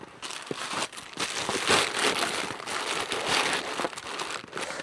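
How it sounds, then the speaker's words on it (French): Paper crinkles and crumples continuously for several seconds as it is stuffed into a bag, close by and fairly loud, with no talking. "Je vais juste mettre le papier dans le sac."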